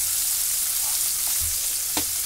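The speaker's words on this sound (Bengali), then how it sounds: "পেঁয়াজটা দিয়ে ভালো করে নাড়াচাড়া করে ভেজে নেব" Chopped onion pieces sizzle steadily in hot oil in a pan for a prawn curry, with a couple of brief scrapes of a spatula as they are stirred; no talking.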